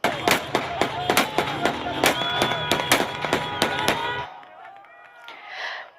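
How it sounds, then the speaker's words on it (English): Rapid bursts of celebratory gunfire in Damascus crack out in an irregular string of loud shots over crowd noise, then stop, leaving voices and chanting. "Gunfire and chants of freedom are heard in Damascus as residents take to the streets in celebration."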